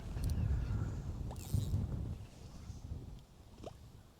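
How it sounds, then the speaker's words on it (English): Wind buffets a small fishing boat on a river, a steady low rumble of gusts across the microphone with faint water sounds and a few light knocks, strongest in the first two seconds. "Right now the wind is winning."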